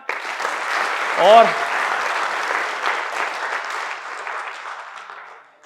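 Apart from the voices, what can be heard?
audience applause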